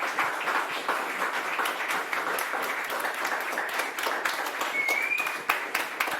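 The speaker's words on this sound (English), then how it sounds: "Please give them an applause." A dense, steady burst of audience applause for improv performers at a pop-up improv and biomedicine show keeps going for about six seconds. A brief whistle-like tone rises through it near the end.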